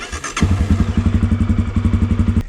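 A dirt bike engine starts with a brief crank, then idles loudly and close by in a quick, even thumping rhythm.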